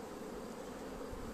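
Honey bees hum as a dense, steady buzz from an opened hive of a double colony with bees up in the honey super, close and continuous with no voices.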